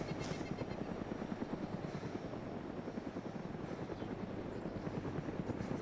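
A helicopter's rotor thumps in a steady rapid pulse in the video game DayZ, sounding close and continuous at moderate volume, with no other sounds standing out.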